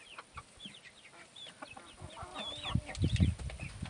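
Chickens and a rooster cluck and chirp near a feeder, scattered soft calls building into louder, busier clucking toward the end.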